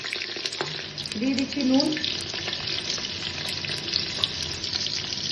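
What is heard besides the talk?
potatoes frying in oil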